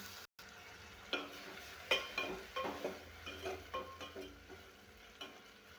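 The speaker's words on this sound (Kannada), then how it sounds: "ಎಣ್ಣೆ ಮೇಲೆ ಫಸ್ಟ್ ಸಾಸಿವೆ ಮತ್ತು ಜೀರಿಗೆ ಹಾಕಬೇಕು ಕರಿಬೇವು ಹಸಿಮೆಣಸಿನ್ಕಾಯಿ ಈರುಳ್ಳಿ" Mustard seeds, cumin, curry leaves, green chilli and onion sizzle in hot oil in a pot for tomato rice, with stirring scrapes and crackles in a steady series of bursts, close and fairly quiet, no talk.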